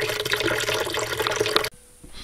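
Hot water from boiled Easter eggs pours off in a steady, close splashing rush that stops abruptly, leaving a faint trickle and quiet room tone.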